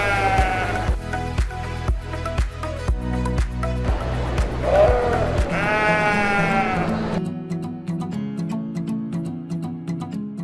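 Sheep at a livestock auction bleat repeatedly, several loud calls overlapping one another, with rhythmic knocking and a low background hum beneath them.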